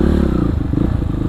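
A loud Kawasaki KLX motorcycle engine, bored up to 450cc, revving up close, rough and throbbing with a steady mechanical rattle.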